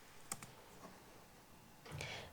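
Typing on a computer keyboard, heard as a few faint, sparse clicks and taps in a quiet room, with a slightly louder brief burst of keystrokes near the end.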